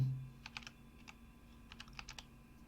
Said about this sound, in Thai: ให้พิมพ์เข้าไปว่า h i k i n